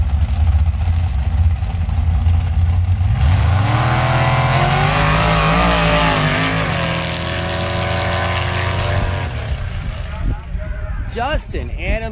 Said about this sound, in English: up against Curtis Helmuth in the Heartburn Express Dragster.